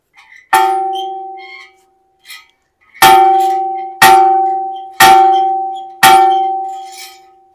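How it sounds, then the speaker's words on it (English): Big bell at the Gorakhnath temple in Kathmandu, struck five times with loud metallic clangs that ring out and decay, a single strike followed by four evenly spaced ones about a second apart. "So the bell is like this"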